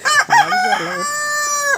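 A native rooster crows close by, one loud full cock-a-doodle-doo with a short rising opening and a long sustained final note, with no voices over it.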